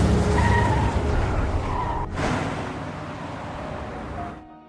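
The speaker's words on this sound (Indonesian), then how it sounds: "Mauricio langsung tancap gas mengejar Jim" A car speeds off in a chase with tires skidding, a loud sustained screech over engine roar that cuts briefly, resumes and fades before ending abruptly.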